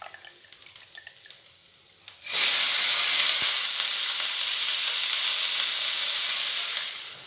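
Soaked mung and masoor dal go into a pan of frying onions, and a loud, steady sizzle suddenly bursts up and holds as a broad hiss, fading at the end. A quiet clatter precedes the sizzle.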